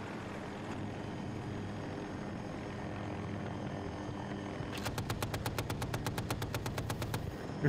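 A helicopter providing air support in a video game, with a steady rotor and engine drone and then a rapid evenly spaced machine-gun burst that lasts several seconds over the whir.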